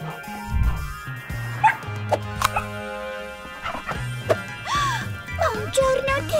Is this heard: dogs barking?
yes